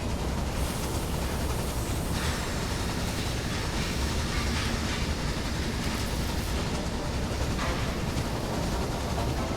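A steam train runs continuously in the video game Railway Empire, giving a steady, dense rumble of rolling wheels and engine noise at moderate volume with no talk.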